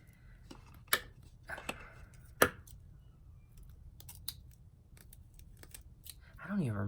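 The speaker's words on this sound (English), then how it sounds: "just gonna cut some of my string here" Scissors cut a length of string in half with a few sharp, close snips separated by pauses. A voice briefly enters at the very end.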